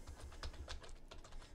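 Keys tapped on a computer keyboard while entering data, a quick irregular run of soft clicks close by, with no talking over them.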